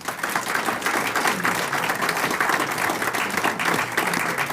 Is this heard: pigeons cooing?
no